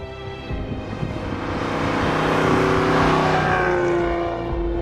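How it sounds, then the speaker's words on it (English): A 1957 Mercedes-Benz 300 SL Roadster driving at a classic car event, its engine note swelling into a steady close drone with road rumble, then easing slightly, no talking. "what you see here I'm driving is a 1957 Mercedes-Benz 300 SL Roadster"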